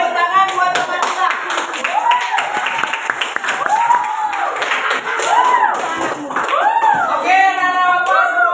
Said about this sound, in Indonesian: Oke, tepuk tangan buat teman kita.